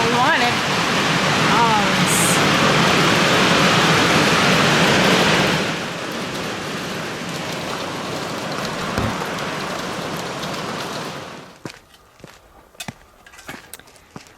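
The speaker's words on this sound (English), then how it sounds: "We're getting hail." Hail and heavy rain pound down outdoors in a loud, dense roar that eases after a few seconds, keeps falling more softly, then stops abruptly, leaving scattered taps and a brief exclamation.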